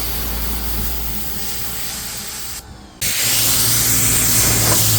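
Bug remover sprayed onto a car's paint, a loud, continuous spray hissing close by, breaking off for a moment before resuming even stronger.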